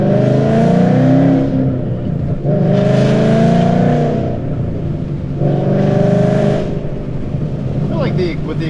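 A Ford Mustang S197 5.0 with a full exhaust revs and pulls hard in three rising bursts, each a loud, droning roar heard from inside the car, separated by short gear-change dips.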